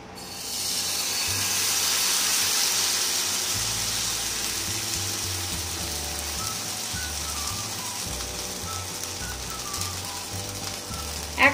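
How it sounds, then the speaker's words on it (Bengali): Semolina batter for a savory pancake hits an oil-brushed frying pan over high flame and sizzles, a dense crackling hiss that swells early then settles into steady frying, close and without talk. "তার জন্য আমি একটা ফ্রাইং প্যান নিয়েছি, তাতে আমি একটু অয়েল ব্রাশ করে নিয়েছি। তাতে এবার দিয়ে দিচ্ছি সুজির ব্যাটারটা।"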